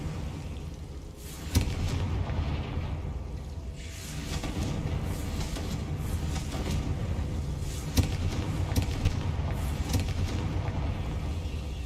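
Confringo spell explosions in the video game Hogwarts Legacy, a dense, continuous rumble of booming blasts with sharp impact bursts around the second and eighth seconds, loud and close with no speech.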